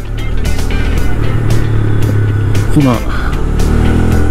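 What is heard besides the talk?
2021 Honda Grom 125cc motorcycle riding at about 35 km/h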